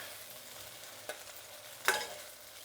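Okra (bendakaya) frying in a pan for a chutney, with a faint steady sizzle and two brief scraping stirs, the second louder, with no talking.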